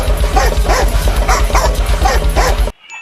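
A dog barks loudly and repeatedly at close range, about half a dozen rhythmic yapping barks in quick succession before the sound cuts off abruptly.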